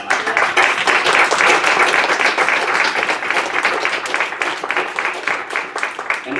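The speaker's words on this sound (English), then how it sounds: "Recommend a round of Applause for all our presenters tonight." An audience applauds for presenters at an evening vaping presentation and discussion, a dense, steady roar of many hands clapping throughout, loud and close, tapering slightly toward the end.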